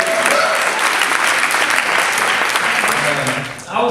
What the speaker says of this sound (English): we want to give him another round of applause